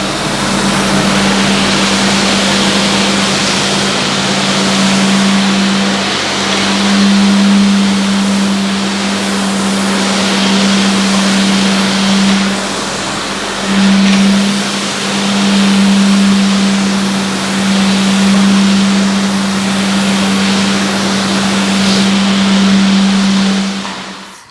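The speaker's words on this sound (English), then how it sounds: "So that's why I'm rinsing towards the wall and not starting at the far end next to a wall and working my way out." A hose sprays water across a vinyl plank floor, a constant loud hiss and splash with a steady low hum underneath, going on without a break and with no talking.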